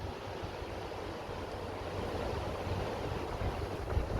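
Ocean surf rolls onto a Texas Gulf Coast beach at Surfside, a steady broad wash of waves with wind buffeting the microphone and no talking.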